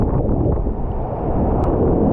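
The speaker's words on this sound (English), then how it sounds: "This storm came from nowhere." A sudden storm in Bangkok with strong wind roaring steadily against the microphone, loud, dense and rushing, with no voices.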